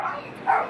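Dogs bark in the background, giving two short muffled barks at moderate distance within less than a second, with no talk over them.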